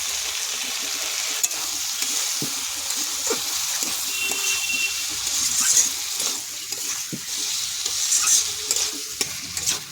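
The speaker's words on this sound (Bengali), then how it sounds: "এই মশলাটা জলে গুলে নিয়েছি, এবার দিয়ে দেবো" A spice paste mixed in water is added to a frying pan and stirred, making a continuous sizzle and spitting with soft scraping strokes, close and alone without speech.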